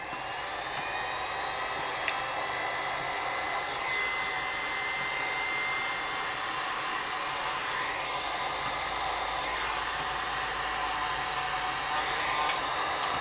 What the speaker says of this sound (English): Try not to burn yourself too much with the heat shrink gun.